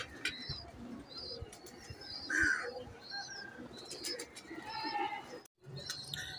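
Rooftop pigeons in a Sialkot loft give soft, low coos over a dense bed of outdoor background noise, with a few faint chirps and scattered clicks, fairly quiet and distant.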